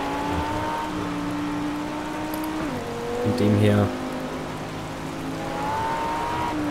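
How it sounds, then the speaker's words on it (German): Steady rain hisses during a thunderstorm in the Project Cars racing game, with a car engine droning and shifting pitch beneath it, while someone speaks briefly. "wir sind hier mitten in einem Thunderstorm so gesehen"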